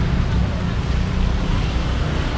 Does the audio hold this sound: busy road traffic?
yes